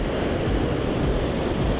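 Strong wind gusts on an Australian beach at Lucky Bay, with steady roaring noise that buffets the microphone and likely mingles with surf, loud and continuous throughout.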